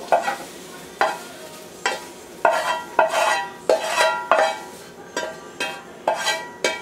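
Eggs frying in a pan on a lowered flame, with about a dozen sharp scraping or stirring strokes at a steady rhythm over a soft sizzle, close and fairly loud, no talking.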